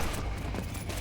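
Gunfire in the game Neon White: a short burst of sharp, loud shots crowding a one-second stretch, no talk over it.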